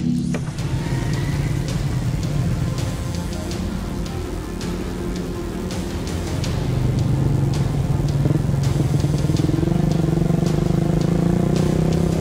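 Modified motorcycles ride a muddy rural village track, their engines droning steadily near and loud, the pitch shifting as they labour through the mud, with a hissing, rain-like wash throughout.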